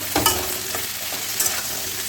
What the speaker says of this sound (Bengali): সবগুলোকে একটু সুন্দর করে নাড়িয়ে